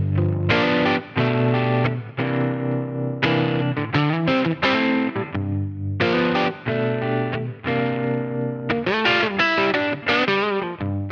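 An electric guitar through a pedal emulating a Fender Brown Deluxe amp, with a warm, lightly overdriven tone, plays chords and short riffs, strummed phrases separated by brief pauses, with a gentle modulated shimmer.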